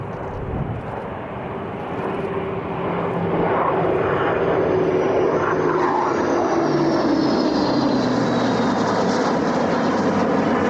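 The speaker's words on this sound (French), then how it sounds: "À présent, c'est un A400M." An Airbus A400M military transport aircraft flies over during an air assault demonstration, its propeller-engine roar building from moderate to loud and holding steady, with a faint drifting drone overhead.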